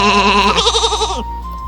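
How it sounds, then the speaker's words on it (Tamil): One loud, close sheep bleat with a wavering, quavering tone that cuts off abruptly, heard alone on a farm. "நம்மளோட பா பா செம்மறி ஆடு ஃப்ரெண்ட்ஸை மென்மையா தொட்டு பார்க்கலாமா?"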